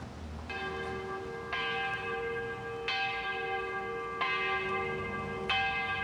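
Church bells of St. Anne's in Penetanguishene, Ontario ring in slow, evenly spaced strikes, each leaving a long, bright, humming decay that overlaps the next, clear and fairly close with no voices.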